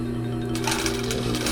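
A sewing machine runs a quarter-inch basting stitch across the top of fabric shorts. The motor hums steadily, and the stitching grows busier partway through.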